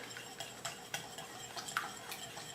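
Egg whites and yolks are whisked for a French omelette, giving a quick run of light, irregular clicks and taps of a whisk against a bowl, close and fairly quiet.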